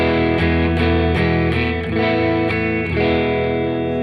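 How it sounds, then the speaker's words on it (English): A Telecaster electric guitar plays through a Fender Frontman amp on its lighter gain channel, strumming steady chords with a mild distorted crunch that rings continuously and close, no voices over it. "We're already getting some light distortion"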